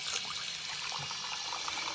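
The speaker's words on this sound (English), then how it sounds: "I get a lot of hot water in here" Hot water pours from a tap in a steady, moderately faint rush with light splashing and trickling, no voices over it.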